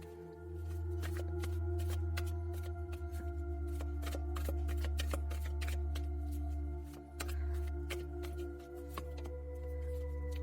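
Tarot cards riffle and slide as a deck is shuffled and a card is drawn, with a quick run of crisp flutters and papery clicks, close up and steady over a low background hum.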